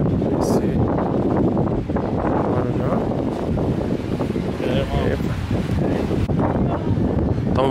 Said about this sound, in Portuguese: Tá um vento frio, galera.